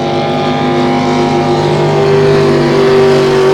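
A racing boat engine on a race course drones loudly and steadily, its pitch rising slightly as it pulls away, a continuous close roar.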